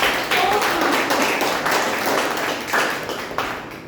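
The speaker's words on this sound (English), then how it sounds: "So a big round of applause for Toastmasters." Steady applause from a Toastmasters club audience, dense clapping filling the whole stretch with a few louder claps and a murmur of voices underneath.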